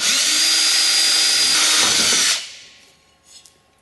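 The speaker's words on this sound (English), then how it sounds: "I'm going to very carefully drill straight down, just using my hand." A hand-held power drill whines steadily at close range for about two seconds, drilling straight down, then winds down and stops, followed by faint handling noises.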